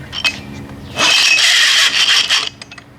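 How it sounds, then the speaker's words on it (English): A rough whirring grind rises for about a second and a half as a 1987 Evinrude 4 hp outboard motor is pull-started, then cuts off, leaving faint clicks. "Let's see what happens with the pull start."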